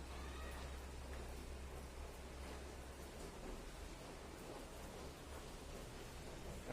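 Light rain falls slowly and steadily, a soft even hiss with no distinct drops or other sounds over it.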